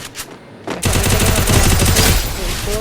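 Rapid gunfire from a first-person shooter game, beginning with a sharp shot after a quieter lull and then a dense, loud stream of automatic fire that runs to the end.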